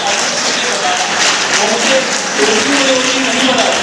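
Applause from an audience at a college road-safety event in a hall, steady and dense throughout, with voices mixed in underneath.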